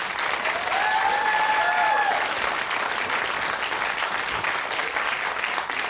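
A large audience gives a big, sustained round of applause for a T-shirt design winner, dense and even throughout with a faint whistle or tone riding above early on.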